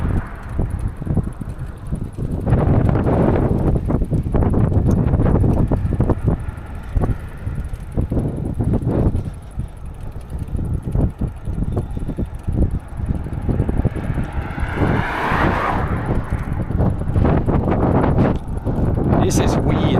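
Wind buffets the microphone while cycling outdoors past open fields, a loud, constant rumbling roar with gusty swells throughout.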